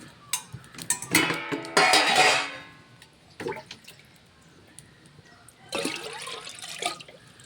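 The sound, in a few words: water poured into a clay pot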